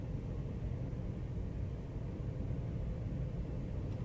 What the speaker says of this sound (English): You love the Desiro sounds, nice.